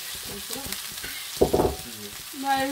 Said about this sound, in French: On rajoute les poivrons.